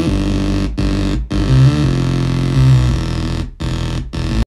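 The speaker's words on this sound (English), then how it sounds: "The main layer is actually just a preset from the TAL Bassline 101" A thick synth bass line from a TAL-BassLine-101 preset plays in steady rhythmic phrases, warm and buzzy with a chorused, reverberant sheen, loud and alone.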